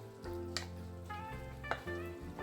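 Pork sisig mixture frying in a pan gives a soft, steady sizzle with a low hum underneath and a few faint clicks of a utensil, close but quiet, with no one talking.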